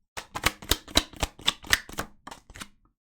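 Tarot cards being shuffled quickly, a run of about a dozen crisp, close riffling bursts in a steady rhythm that ends in a final soft flutter.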